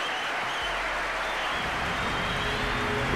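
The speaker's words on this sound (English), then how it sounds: "Big round of applause." A crowd applauds steadily and evenly throughout, a dense wash of clapping at moderate level with no talk over it.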